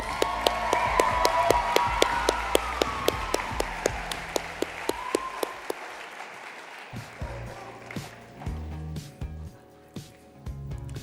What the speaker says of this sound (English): Please join me in giving a round of applause to our state officer jacket sponsor.